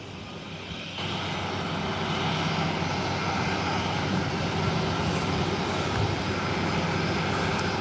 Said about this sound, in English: Taxiing to the parking area